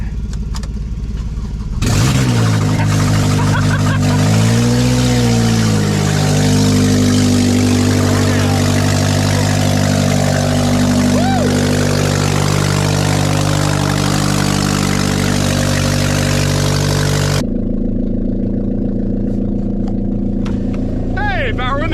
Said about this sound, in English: Here goes a cold start on a catless.